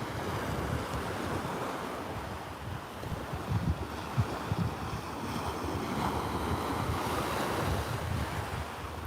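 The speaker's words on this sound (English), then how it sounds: "I love the beach too, It's beautiful, hey? It's so, just the sound of it is so beautiful." Ocean surf rolling onto a beach, a steady broadband wash of breaking waves with wind buffeting the microphone, continuous and fairly loud throughout with no voices.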